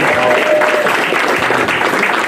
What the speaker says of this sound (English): Big round of applause for them and for Tucker.